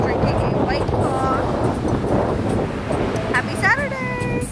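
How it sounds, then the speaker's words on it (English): Strong wind gusts across a warm beach with surf nearby, a steady broadband roar filling the whole stretch, a few faint bird-like whistles and tonal chirps rising briefly near the end. "It just got so windy, but it's still so warm."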